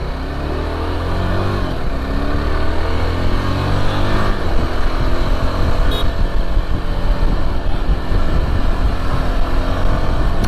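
A Yezdi Adventure motorcycle on a test drive from a showroom, its engine running steadily and close for the whole stretch, with a louder surge partway through and constant road and wind rush, no talking.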